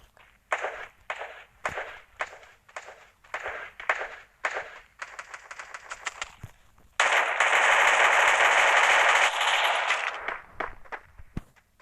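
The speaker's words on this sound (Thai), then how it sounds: "มันใช้ปืนอะไรยิงมาเนี่ย" Gunfire in a 4v4 shooter video game: repeated bursts of automatic fire in a quick rhythm, then a long sustained loud barrage that cuts off near the end, close and dominant with no talk.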